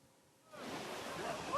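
Ocean surf rolls in at an East Sea summer beach in Gangwon. After a quiet moment, the waves break into a broad, rushing wash that stays loud and steady to the end.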